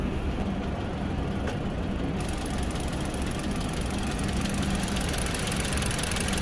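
A 2017 Hyundai Solaris with a 1.4-litre engine idling under an open hood, a steady close mechanical hum with a faint ticking texture that holds evenly throughout.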